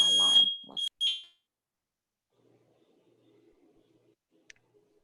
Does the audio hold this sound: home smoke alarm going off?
yes